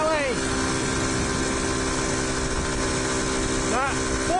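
A Honda CT110 motorcycle engine runs flat out on the road, holding a steady, loud droning whine with strong wind rush and a slight pitch wobble, heard close from the rider's position.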